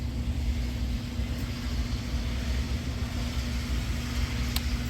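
A small electric motor in a cheap model locomotive hums steadily at about 60–65% throttle, a constant low whir with a faint tonal hum and no voices.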